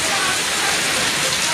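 Heavy rain in the Konkan pours down in a dense, constant hiss, loud and close, with a steady roar and no breaks.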